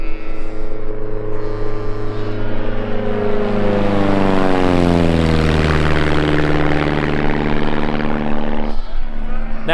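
A propeller airplane buzzes low over the tower, its loud engine drone rising in pitch as it closes in, then sweeping down and fading as it passes overhead.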